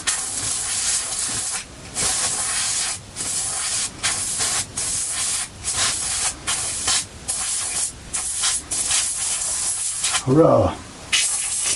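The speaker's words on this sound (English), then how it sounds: "What I will do is use the trusty spray can" An aerosol spray can hisses onto the neck of a Japanese-made Squier JV Stratocaster in repeated short bursts, loud and close, with brief pauses between sprays and a short voiced exclamation near the end.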